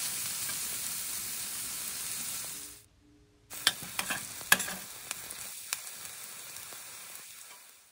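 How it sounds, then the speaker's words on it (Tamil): Long-cut medium onions sizzling and frying in oil in a pan while making anchovy (nethili) fish thokku, with a steady close sizzle, a brief gap and then stirring clinks and crackles over continued frying. "அதே எண்ணெயிலேயே 2 மீடியம் சைஸ் பெரிய வெங்காயம் நீளமாக நறுக்குனது அதை போட்டுடலாம்."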